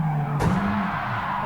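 A race car in Gran Turismo 7 spins out at the Nürburgring: a steady engine drone carries through as a sudden burst of tire skid noise hits and fades, and the engine pitch sweeps and wavers.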